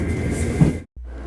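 Kintetsu Urban Liner limited express train running on the Kintetsu Osaka Line, a steady rumbling roll with rhythmic wheel noise that cuts to a brief moment of near-silence before the low hum returns.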